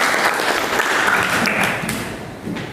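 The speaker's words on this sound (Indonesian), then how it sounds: "Oke, tepuk tangan." Classroom applause from students after a pupil answers a physics question about hydrostatic pressure, a dense steady clatter of many hands close by, tapering slightly before a brief swell near the end.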